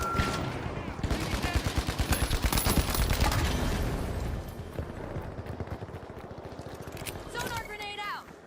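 Sustained automatic fire from an enemy gun in a video game, a dense rattling barrage that swells and then fades into scattered shots, while a player talks over it.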